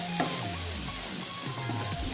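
Tomatoes fry in a pan for soya masala, giving a steady, fairly close broadband sizzle that runs unbroken throughout, with faint stirring noises in the mix.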